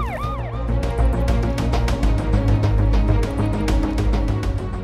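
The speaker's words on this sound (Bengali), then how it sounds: "সাইরেনের আওয়াজ শোনা যাচ্ছে" An ambulance siren sounds loud and continuous, its pitch sweeping up and down in repeated wails, over a steady low rumble from the vehicle.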